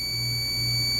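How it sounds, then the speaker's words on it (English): A multimeter's continuity test emits one steady, loud, high electronic beep up close, held for about a second. "You can hear the beep."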